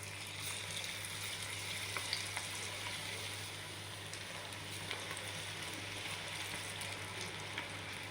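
Onion pakoda fritters deep-frying in hot oil, a continuous soft sizzle and crackle with scattered tiny pops, steady and fairly quiet under a low background hum, no voices.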